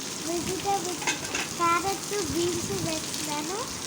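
Onion, carrot and beans frying in a pan for Maggi noodles, a steady sizzle with occasional stirring scrapes while someone talks over it.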